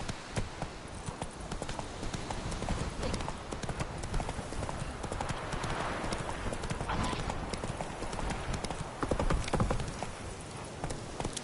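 Roach, the horse in The Witcher 3 on PS4, gallops in a steady run of hoofbeats that fill the whole stretch. An occasional whinny and a faint game voice sit under the hooves.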